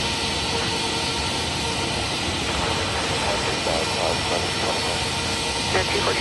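Boeing 737-8 jet airliner taking off, a loud continuous broadband jet roar throughout with faint radio chatter underneath.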